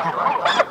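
A Tula goose honks loudly and close up, a nasal two-part call that rises into a harsher squawk, with no voices.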